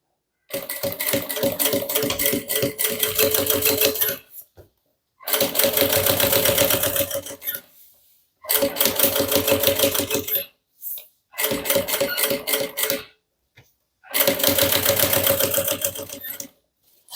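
A sewing machine stitches along the edge of a bag in five separate bursts of rapid mechanical chattering, each lasting a few seconds, separated by short silences, heard up close without talking.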